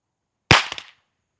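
A single sharp report from a Staccato 1911 pistol firing when dropped onto its muzzle, a close, loud crack with a short, quickly fading tail.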